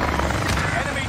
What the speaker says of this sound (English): Mercenaries called in a supply chopper.